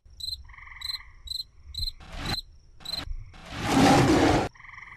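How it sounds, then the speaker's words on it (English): A looped ambient nature bed from the Life of Black Tiger mobile game, with steady cricket and insect chirps, frog-like croaks, and a brief burst of rushing noise, fairly quiet with no speech. "the only sound you hear is one ambient noise that's been looped over and over"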